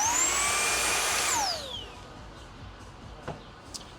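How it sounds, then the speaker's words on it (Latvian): A Milwaukee M18 cordless vacuum cleaner with a built-in light whines loudly and steadily, then spins down with a falling pitch after about a second and a half, leaving faint room noise and a couple of small knocks. "Jauns M18 puteksūcējs"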